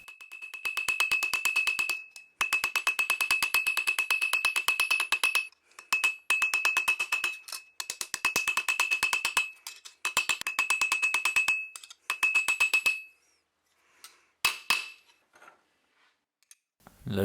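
Rivets are hammered on a carbon fibre knife handle in rapid, sharp bursts of metallic taps with a ringing tone. The bursts are separated by brief pauses and thin out into a few scattered knocks near the end.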